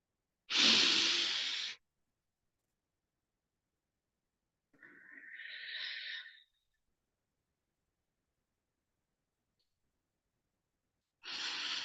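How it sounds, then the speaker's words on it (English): Slow deep breaths through the mouth during a morning meditation: a strong breathy exhale, a long pause, a softer airy breath, then another forceful exhale starting at the end, each separated by silence. "a deep breathing twice. Inhale, we stop breathing and exhale from the mouth."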